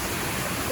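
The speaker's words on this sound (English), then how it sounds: "it's a very small creek flowing from the bottom of Fold's Falls across the path" Small creek running across a footpath below Fold's Falls, a steady close wash of rushing water with no break across the short stretch.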